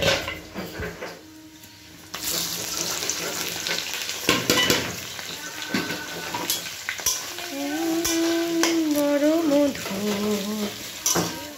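Onions sizzling and frying in hot oil with whole garam masala while being stirred, with scraping and clinking of a utensil against the pan, and a voice briefly talking near the end.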